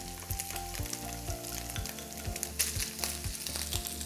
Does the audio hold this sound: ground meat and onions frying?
yes